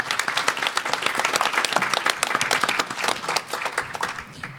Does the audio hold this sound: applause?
yes